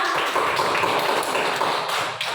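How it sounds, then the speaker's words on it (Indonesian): Classroom applause at the close of a lesson, a steady dense patter of many hands clapping together, sustained and fairly loud throughout without pause. "kita beri aplaus untuk kita semua"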